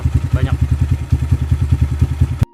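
A Viar 200 GT Cross motorcycle with a wrapped exhaust idles close by, a loud, steady low thumping pulse with a brief voice partway through, cutting off abruptly near the end.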